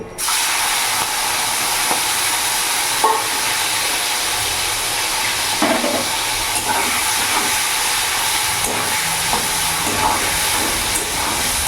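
Shrimp frying in a wok with salt and turmeric, a steady loud hiss of hot oil throughout with occasional small pops and clatters.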